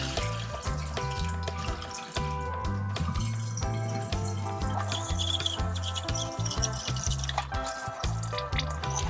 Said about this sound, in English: Carefully pour off as much of the water as possible without pouring out any rice.